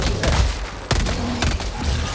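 Shotgun blasts in Helldivers 2 combat, with several sharp loud reports, one striking near the one-second mark and another shortly after, over dense battle noise.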